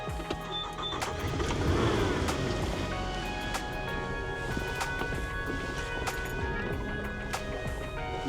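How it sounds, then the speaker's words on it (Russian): Outboard boat motor starting and running at the outset of a pike fishing tournament, a steady engine drone with broadband rumble and mechanical knocking that holds fairly constant throughout, without speech. "И заводим мотор."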